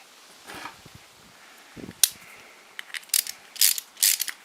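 Short bursts of ratchet clicking come from a hand ratchet tightening the carburettor chamber bolt on a lawnmower. The clicks are close and come in uneven spurts with pauses in between, and no one talks.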